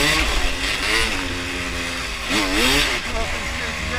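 Dirt bike on an enduro trail at Hungry Valley, Gorman, California, its engine with about 12 hours on it revving up and down close by, with a sharp rising and falling surge partway through.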